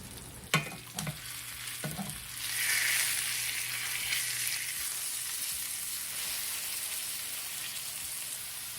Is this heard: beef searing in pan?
yes